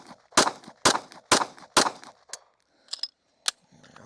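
Handgun shots fired during a timed police-standard shooting drill: four loud, sharp reports in a quick, even rhythm, followed by a couple of fainter clinks and a lone later crack, with no talking.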